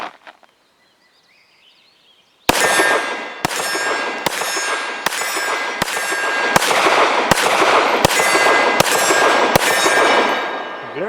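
Nine shots from a Colt Competition 9mm 1911 ring a steel target about 20 yards away, each loud crack followed by a clanging ring, evenly spaced after a brief quiet lead-in.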